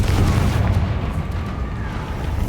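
A Confringo spell detonates in Hogwarts Legacy, a heavy continuous explosive boom with deep rumbling low end that stays loud through the short burst, with a faint rising whistle under it.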